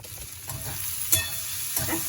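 A covered pan on low gas is opened and its contents stirred as they fry: a constant soft sizzle with a couple of sharper spatula scrapes against the pan.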